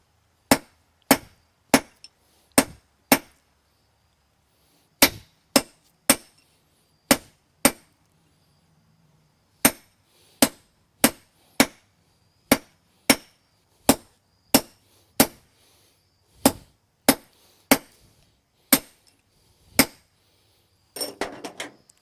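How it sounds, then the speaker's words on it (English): Nails are hammered square on an anvil in a long series of sharp, ringing metallic strikes, some in quick pairs or runs, with short pauses between groups, close and clear against near silence. "I'm gonna use the anvil and just kind of square them off a little bit."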